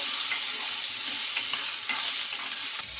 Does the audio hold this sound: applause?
no